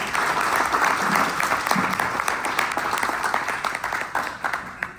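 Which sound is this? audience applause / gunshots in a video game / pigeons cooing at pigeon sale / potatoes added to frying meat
audience applause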